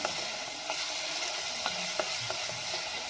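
Sliced onions and green chilies sauté in a pan for a mushroom curry, giving a continuous sizzle broken by a few light stirring clicks of a spoon against the pan.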